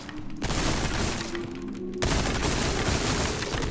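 Gunfire at the shooting range in the video game Resident Evil 4: loud, sharp bursts of shots with booming impacts, one volley starting abruptly and a heavier one following about a second and a half later.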